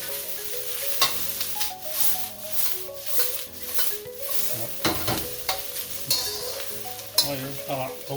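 Napa cabbage stir-fried in a wok over a home stove, with a steady sizzle under repeated scraping and clattering stirs, fairly close and moderately loud, no talking.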